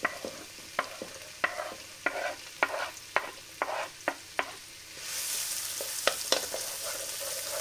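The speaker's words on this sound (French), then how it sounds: "j'ai remis un petit peu de matière grasse. Et on va les faire revenir dans un premier temps nos oignons." Onions sauté in a little fat in a pan, with a steady soft sizzle broken by regular clacks of a spoon stirring, then a louder hiss swelling near the end with a few more scrapes.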